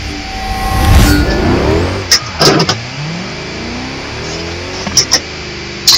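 Forza Motorsport 6 car engine revving hard with rising and falling pitch through gear changes, loud and close, with a few sharp clicks from the game in between.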